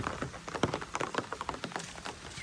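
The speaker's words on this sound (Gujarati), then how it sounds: "અત્યારે વરસાદ બહુ ચાલુ હોય છે" Heavy rain pours steadily onto a surface, dense patter with many close drops and splashes, continuous and moderately loud with no voices.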